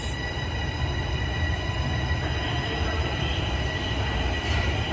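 A TTC subway train pulls out of Highway 407 station with a continuous rolling rumble, a steady loud drone of motors and wheels on track and no talk over it.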